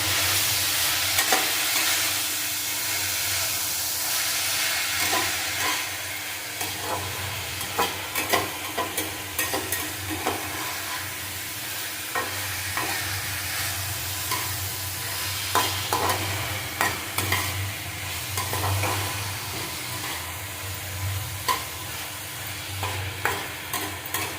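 Spices such as salt, turmeric and coriander powder being stirred in a pan while cooking shrimp with banana flower, a steady scraping and sizzling that runs continuously with frequent small clinks of the spatula.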